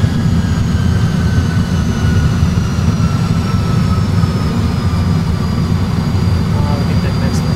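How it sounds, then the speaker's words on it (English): Airbus A320 jet engines in reverse thrust during landing, a steady, loud, low-pitched roar with a thin whine slowly falling in pitch, heard from the cockpit without pause. "reverse is on."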